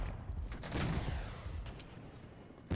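Artillery fire in the strategy game Regiments, a rumbling barrage of muffled booms and crackling blasts rolling together at a distance, fairly quiet overall with a few sharper reports.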